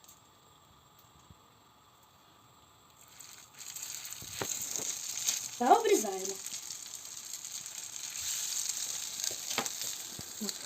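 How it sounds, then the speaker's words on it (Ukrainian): Soft sizzling of churros dough frying in hot oil in a pan rises after a quiet start, with a brief spoken remark over the crackle. "Смажимо до золотистого кольору з кожної сторони"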